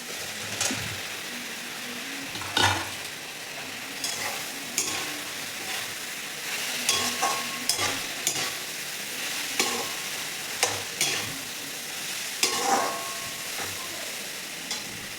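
Soybean chunks for soybean chilli, seasoned with red chilli powder, sizzle softly in a pan while a spoon stirs and scrapes them in repeated sharp bursts, close and fairly quiet.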